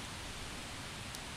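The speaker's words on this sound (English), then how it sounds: "So this is just a pretty much white noise loop." Steady white noise loop from the game Fech The Ferret: a flat, even hiss that stays constant throughout, with no rhythm or breaks.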